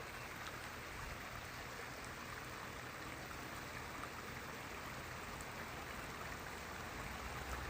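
A small water stream trickling down a mountainside, a steady broadband wash of running water held at an even level throughout, with no voices over it.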